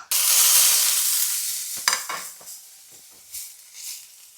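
Ingredients hit hot oil in a pan with a loud burst of sizzling for egg dishes. The hiss fades over a few seconds, and a few sharp stirring scrapes and crackles follow.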